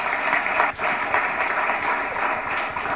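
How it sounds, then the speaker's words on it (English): A crowd at a business association's annual state meeting applauding, a dense and steady wash of clapping that holds for a few seconds with a brief dip near the start. "I think he deserves a huge round of applause."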